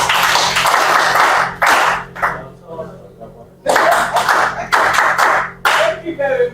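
An audience claps at a Human Rights Commission stakeholder meeting in Abia State. Several loud bursts of applause come in separate waves with short pauses between, and a voice speaks in the gaps.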